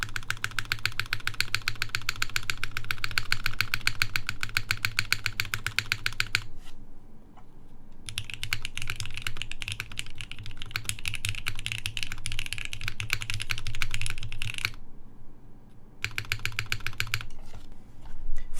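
Close, rapid typing on a Monokei 910 v2 mechanical keyboard fitted with a GMK spacebar, dense clacking bursts broken by two short pauses before resuming.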